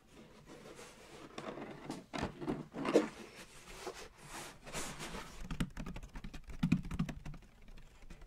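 Packaging of Rode NT5 microphones is handled up close, with soft scattered crinkles, taps and rustles of irregular rhythm, some louder knocks mid-way and a quick cluster of small clicks toward the end.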